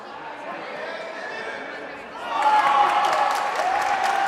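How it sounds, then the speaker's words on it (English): A crowd at a youth bouldering competition in Sukoro murmurs, then swells into cheering and applause that stays loud to the end, with talk mixed in beneath. "hearing the cheer of the crowd"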